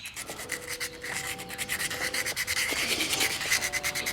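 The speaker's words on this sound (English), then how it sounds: "you just take a piece of sandpaper to the tubes" Sandpaper roughing up brass pen blank tubes, a steady close rasping scrub in quick back-and-forth strokes that grows more rhythmic and slightly louder, with no talk.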